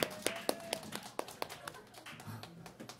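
Scattered, sparse handclaps from a small audience welcoming a band's performance at a Korean club event, individual claps standing out rather than a full roar.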